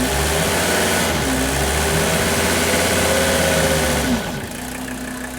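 Mercedes W116 300SD diesel engine idling loudly and steadily up close during a fuel system purge, a constant rough clatter that softens slightly near the end.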